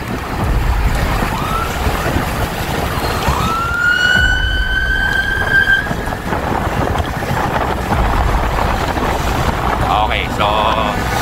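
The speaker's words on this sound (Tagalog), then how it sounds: "So may nakita tayo ambulansya sa likod." An ambulance siren rises and wails on the road behind, a single rising tone fading out amid steady wind and road noise, with brief later siren bursts.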